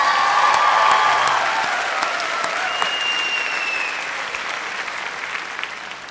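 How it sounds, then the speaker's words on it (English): Audience applause at a graduation ceremony, a broad hall full of clapping that starts loud and slowly thins and fades over several seconds, with a faint whistle or cheer riding on top. "Give yourself a round of applause."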